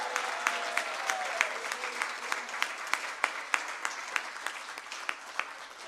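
Audience applause at a conference rapporteurs' session, a steady wash of many hands clapping at moderate distance with sharper individual claps standing out, a faint voice briefly underneath.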